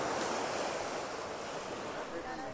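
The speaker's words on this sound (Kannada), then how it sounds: "ಅಲೆಗಳ ಸೌಂಡು" Steady ocean surf rolling onto an empty morning beach at Gokarna, a continuous broad wash of breaking waves with some wind rumble against the microphone.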